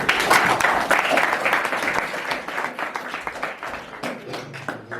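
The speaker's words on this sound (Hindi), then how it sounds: "तालियां बजाइए।" Audience clapping at a youth festival in Lalpur, Ranchi, a dense burst of applause that starts loud and tapers into scattered claps over five seconds.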